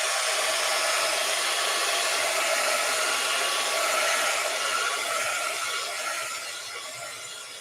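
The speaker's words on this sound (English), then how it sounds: "I'm going to hit this with my dryer for just a second." A hair dryer blowing up close, a steady loud airy whoosh that fades slightly near the end.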